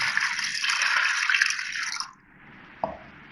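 Water pouring steadily into a pot of soaked chana dal, a continuous splashing gush that stops partway, leaving a quiet background and a single drip-like knock.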